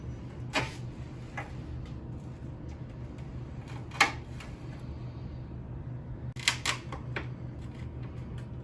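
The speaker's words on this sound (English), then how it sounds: "I'm going to have to try to smush them with a spoon on this metal surface" A spoon pressing and scraping ghost peppers on a metal surface, giving several sharp metallic clicks and taps spaced irregularly over a quiet low hum.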